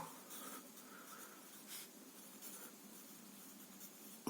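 Pen writing by hand on paper while plotting a less-than ogive graph for a statistics exercise, a faint close scratching with short strokes and pauses.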